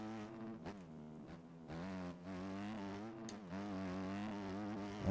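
A Honda 250F dirt bike engine in the MX Bikes motocross game revs hard, giving a loud, continuous buzzing whine that climbs and dips in pitch as the throttle changes, heard alone with no voices.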